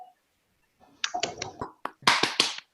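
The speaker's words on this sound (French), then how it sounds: "je vous demande d'applaudir pour l'instant spécifiquement les Landais" Brief scattered applause from a small breakfast-meeting audience of a BNI Adour business networking chapter, a few hands clapping in short bursts after a near-silent start, close and moderately loud.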